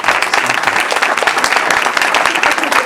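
Audience applause follows the introduction of a representative at a Project Teddy Bear presentation: dense, steady clapping from a crowd, fairly loud and sustained for about three seconds.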